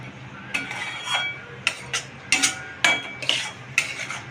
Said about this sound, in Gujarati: હવે આપણે શીરામાં નાખીશું ખાંડ.